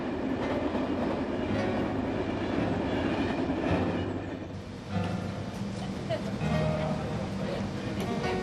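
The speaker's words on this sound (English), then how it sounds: "the train has left the station of Berwick" Train pulling out of Berwick station, a steady rolling rumble with faint wheel clatter that continues throughout, dipping briefly midway, with a narrator speaking over it.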